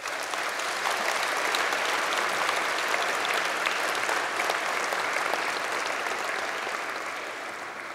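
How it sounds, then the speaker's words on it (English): Applause at a university graduation ceremony, a large audience clapping in a dense, steady wash for several seconds before gradually tapering off near the end. "I think you all deserve a round of applause from the students"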